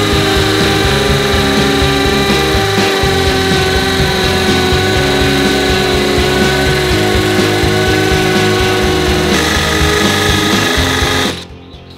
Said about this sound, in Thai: เรามาลองใช้สว่านแบบตัวนี้นะครับเจาะผนังปูนธรรมดาดูนะครับ